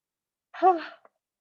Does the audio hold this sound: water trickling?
no